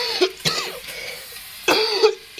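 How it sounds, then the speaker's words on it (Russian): A few harsh coughs close up, in bursts separated by pauses and heavy breathing. "Кашель, кошмар, не могу"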